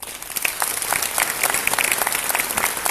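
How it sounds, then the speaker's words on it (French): An audience claps during a 2019 New Year's greetings speech, a dense, even burst of applause from a roomful of people, sustained and fairly loud with no talk over it. "Je crois qu'on peut les applaudir quand même."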